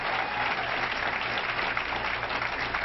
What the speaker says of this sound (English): We should give her a big round of applause